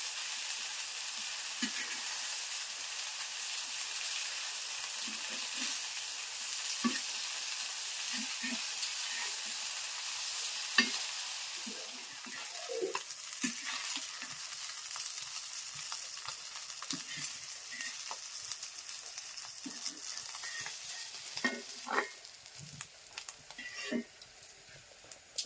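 Bombil (Bombay duck) fish fries on a wood-fired village chulha, giving a continuous loud sizzle broken by scattered clinks and scrapes of the pan.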